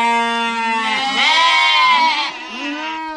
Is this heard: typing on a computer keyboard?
no